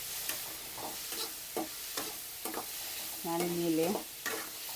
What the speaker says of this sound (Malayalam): ഇനി ഇതൊന്ന് നല്ല രീതിയിലൊന്ന് തിളക്കട്ടെ.